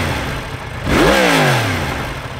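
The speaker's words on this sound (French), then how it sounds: "Donc, on va démarrer la moto." A 2018 Yamaha MT10 motorcycle engine cranks briefly and fires up, jumping to a loud, close rev that rises sharply and then settles back toward a rough idle.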